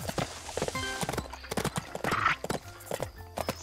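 Horse hooves clip-clopping in the Bibi und Tina video game, a steady close rhythm of hoof beats with a brief whinny, under a voice speaking.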